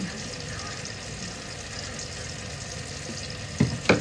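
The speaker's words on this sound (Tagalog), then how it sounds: "At i-mix lang natin." Hamburger steak sauce with liquid sugar being stirred in a hot pan, a steady sizzling hiss throughout, with a couple of louder scraping clunks of the utensil near the end.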